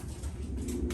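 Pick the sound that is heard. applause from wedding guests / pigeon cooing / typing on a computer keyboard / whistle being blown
pigeon cooing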